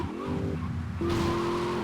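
A car in GTA Vice City drives off with a revving engine that jumps in pitch, then tires skid and squeal in a short, loud, close burst without speech.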